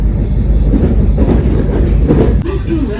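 Electric commuter train running along the rails, a steady loud rumble with rhythmic clickety-clack of the wheels, continuous throughout and close by, with faint voices mixed in.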